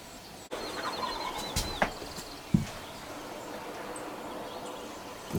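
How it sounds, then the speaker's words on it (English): Wild turkey gobbler gobbling from a hillside directly behind a hunter in the woods, a couple of gobble bursts rising above steady outdoor background hiss, moderately near, with no talking. "the gobbler, he's sounding out pretty good behind me"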